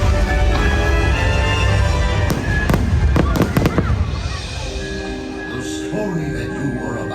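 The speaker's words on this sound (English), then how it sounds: "enjoy this not so spooky, but very spectacular Halloween fireworks show" Halloween fireworks show at Disney's Magic Kingdom: fireworks crackle and boom in a dense barrage of sharp bangs over a constant rumble, with whistling trails, then thin out toward the end.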